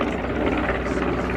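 Douglas Dakota piston engines drone at an airshow, a steady thick propeller rumble heard briefly and continuously.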